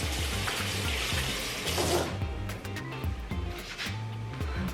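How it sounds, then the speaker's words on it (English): A kitchen faucet runs steadily while hands are washed under it, a continuous close splash and hiss that shifts briefly as the hands move in the stream, with no speech. "I'm going to wash my hands again"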